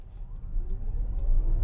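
A car pulls away hard from a stop at a red light, its engine a deep, swelling rumble that grows louder and rises steadily as it picks up speed.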